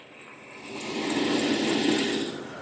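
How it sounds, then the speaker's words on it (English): A steady, high-pitched squeal from a Jaguar XJR's engine drive belt, swelling slightly then easing, over a broad whirring hum with no voices. "We've got a lovely squeal on the belt."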